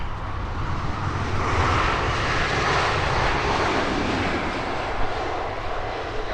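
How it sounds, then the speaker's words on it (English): An Air Canada airliner climbs out after takeoff from the south side at Heathrow, a loud continuous broadband engine roar that stays steady throughout. "Air Canada climbing out from the south side."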